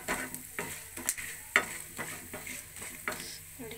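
Cashews frying in a pan, sizzling softly while a spoon scrapes and stirs in short, irregular strokes, close and fairly quiet, with no voices.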